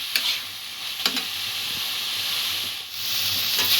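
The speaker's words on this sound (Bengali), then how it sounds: "3-4 মিনিট ধরে এইভাবে নাড়িয়ে সমস্ত গুড়টা আমি নারকেলের সঙ্গে মিশিয়ে নিয়েছি।" Coconut and jaggery filling being stirred in a hot pan, a continuous close sizzle and hiss with a few sharp scraping taps of the spoon against the pan.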